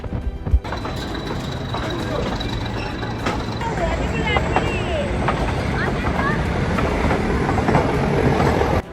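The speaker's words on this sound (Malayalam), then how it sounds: "അങ്ങനെ നമുക്ക് പോകാനുള്ള ട്രെയിൻ ഇത് ഇവിടുന്ന് സ്റ്റാർട്ട് ചെയ്തു കേട്ടോ" The Ooty toy train rumbles and rattles steadily with rhythmic clacking as it departs the station, growing a bit louder as it gets moving, while people talk nearby.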